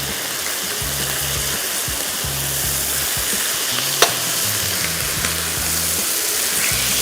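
Chicken sizzling steadily on a grill pan, a close, continuous fry with faint scraping and a sharp clink as the pieces are turned, no talking.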